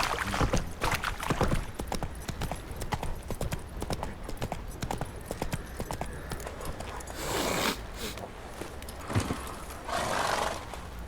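Horses' hooves clip-clop in a rapid, steady rhythm close by, with occasional snorts and a whinny, in the video game The Witcher 3.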